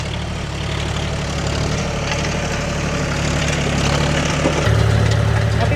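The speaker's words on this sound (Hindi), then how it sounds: "अभी ये ट्रैक्टर चल रहा है अकेला" A John Deere tractor engine runs steadily in a farm field, a loud, continuous low diesel drone with constant vibration and no talking.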